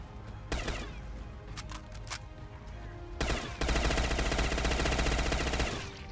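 Bursts of automatic gunfire in the video game Cyberpunk during a zombie fight, with a few short shots early, then a long, loud, sustained volley in the second half.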